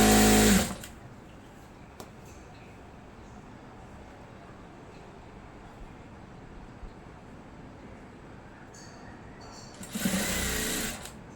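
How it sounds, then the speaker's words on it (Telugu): Sewing machine stitching round the folded half-inch waistband of a salwar pant, a loud burst at the start and another near the end, with a quiet steady hum between. "రౌండ్గా కుట్టుకుంటూ వెళ్ళిపోతాం"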